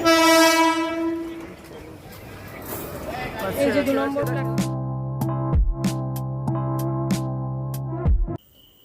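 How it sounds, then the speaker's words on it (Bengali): A train horn blares, then the train rolls into Tarakeswar station in the early morning with rhythmic clacking wheels and squealing brakes; a voice speaks briefly near the start. "এই তো ট্রেন ঢুকেও গেছে"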